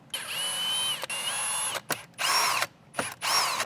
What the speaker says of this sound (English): Now we're gonna remove the head unit. It's held in by 4 T20 screws.